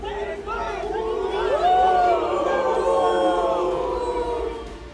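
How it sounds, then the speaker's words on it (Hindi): A large stadium crowd at Arun Jaitley Stadium in Delhi, at an event with Lionel Messi, chants slogans in unison. Massed voices rise and fall in sustained, wavering tones over a steady roar, loud and continuous throughout. "जैसे ही सीएम रेखा गुप्ता ने यहां एंट्री ली तो भीड़ ने नारे लगाने शुरू कर दिए।"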